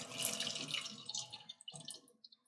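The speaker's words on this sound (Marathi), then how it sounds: "त्याच्यात हे सर्व पाणी काढून घ्यायचे" Water from cooked lentils drains through a mesh strainer while making puran poli. A steady close rush of pouring water fades into a few scattered splashes and drips.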